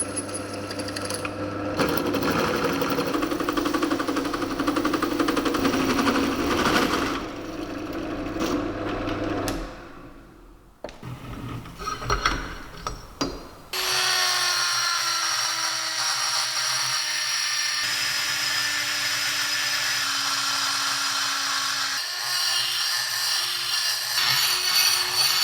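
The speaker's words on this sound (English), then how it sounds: "So I'm going to have to just drill like a sort of half-size hole and then do the rest with a die grinder" Drilling and die grinding a hole for a bigger turbo downpipe on a twin-turbo Nissan 370Z, loud sustained high-pitched tool whine in long runs with a brief quiet gap and pitch changes as the tool loads.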